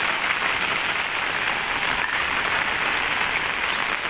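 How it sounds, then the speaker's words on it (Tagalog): Heavy typhoon rain pours down in a dense, steady roar, loud and unbroken for the whole stretch, with no voices rising above it. "grabing ulan dito"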